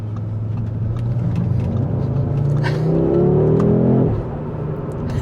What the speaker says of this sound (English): You can hear the turbo blow off.